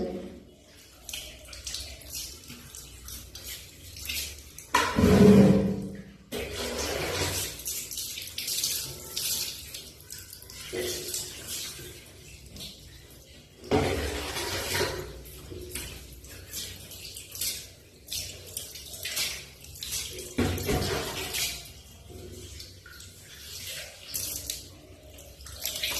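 Tap water runs steadily into a basin as a pet is bathed indoors, splashing and changing in strength as it is directed over the animal, with short louder gushes and faint talk at times.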